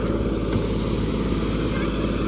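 A fishing boat engine runs close by as the boat heads out to sea, giving a loud, steady low throbbing rumble mixed with wind buffeting the microphone.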